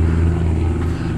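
Small student training airplane passing low overhead above a residential area in Ormond Beach, a loud, steady propeller-engine drone with strong low harmonics, close and continuous with no talk.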